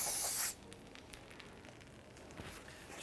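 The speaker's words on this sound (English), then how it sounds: "Just going to use some brake parts cleaner." Brake parts cleaner sprays onto a 2015-2019 Hyundai Sonata rear hub in one short, loud aerosol hiss lasting about half a second, followed by a quiet workshop with faint dripping and small handling noises.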